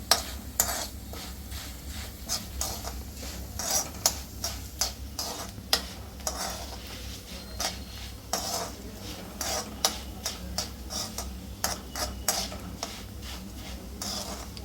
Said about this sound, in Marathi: हे पोहे चांगले तेलामध्ये मस्त फ्राय करून घ्यायचे.